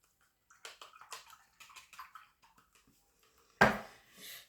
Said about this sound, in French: Alors ça, je vais mettre ça dans l'eau.